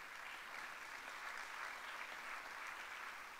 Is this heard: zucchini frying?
no